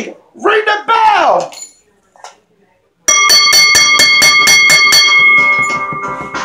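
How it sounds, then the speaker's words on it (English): Rapid, loud metallic bell clanging rings out repeatedly at the end of a professional wrestling match, following a shout and brief crowd noise, then continuing steadily for several seconds. "Ring the bell!"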